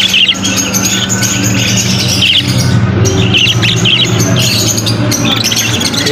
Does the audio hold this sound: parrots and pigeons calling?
yes